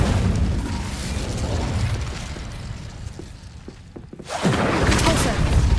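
An Incendio fire spell cast in the Hogwarts Legacy video game, a loud whooshing burst with rumbling booms over dense game effects, briefly dropping near the end before a roaring surge returns.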